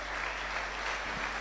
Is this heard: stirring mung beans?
no